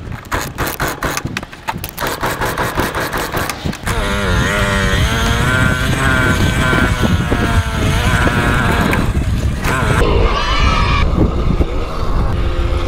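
A Simson SR50 moped being ridden: a rapid popping two-stroke idle gives way to a loud, steady engine drone with rising and falling pitch, close and dominant, with no talk.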